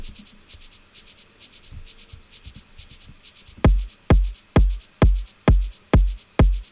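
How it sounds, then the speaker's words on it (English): A soft, steady shaker rhythm with rubbing texture, then sharp, punchy kick drum hits enter at an even beat, six or seven of them. "We've got another top layer here, some shakers."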